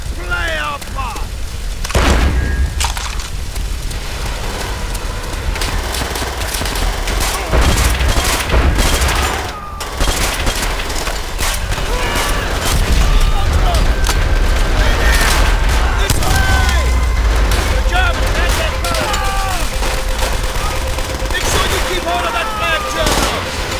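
Heavy gunfire fills a Call of Duty World at War battle in the final hours of Berlin, rifle and machine-gun bursts cracking over booming explosions, continuous and loud, with shouted voices mixed in.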